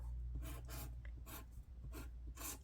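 A pen scratches short words onto small paper slips, a string of quick, quiet scribbling strokes with brief gaps between them. The room is otherwise silent.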